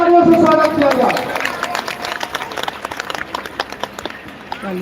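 Audience claps in welcome at a live Shiv bhajan event, a scattered burst of hand claps rising after a voice and continuing steadily, moderately close.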